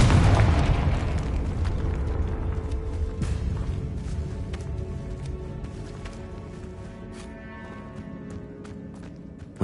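A Confringo blasting spell goes off in Hogwarts Legacy, a loud booming explosion at the start that rolls into a long rumbling decay, with scattered debris crackles and sharp pops fading over several seconds.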